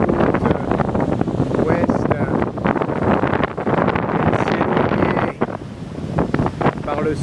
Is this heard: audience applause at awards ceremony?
no